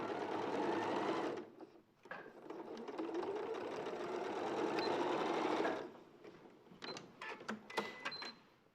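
A sewing machine stitches jersey fabric with a steady mechanical whirr up close. It pauses briefly, runs again, then gives a few slower individual stitches as the needle is turned at a corner.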